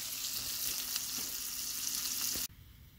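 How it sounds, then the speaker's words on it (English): A New York strip steak sears in hot grease with a steady, fairly quiet sizzle and a few light ticks, before the sound cuts off abruptly near the end. "We're going to go ahead and throw this thing in here and sear it."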